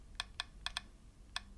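Five crisp keystrokes on a computer keyboard while a chmod command is entered in a terminal, spaced irregularly with a short double tap in the middle, close and quiet against a low background hum.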